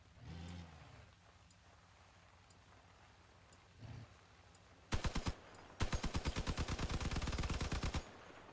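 Gunfire in the vehicle combat game Crossout: after a quiet stretch with a few engine swells and faint ticks, two short bursts erupt, then a steady rapid string of loud, evenly spaced shots lasting about two seconds.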